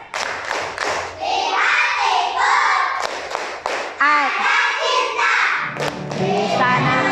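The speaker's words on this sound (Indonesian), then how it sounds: "Tepuk sukses." Classroom of children performing the rhythmic 'success clap', a sequence of sharp, loud group claps in a patterned beat, mixed with children's voices chanting along nearby.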